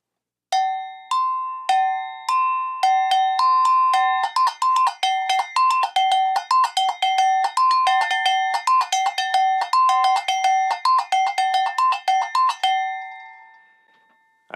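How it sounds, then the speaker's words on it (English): An agogo bell rings out alone in a quick, rhythmic pattern, its two bells clanking back and forth between a higher and a lower pitch. "These are two conical bells, a little bit different pitch."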